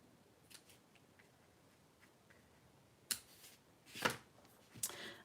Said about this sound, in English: So I shall trim it with my ribbon scissors.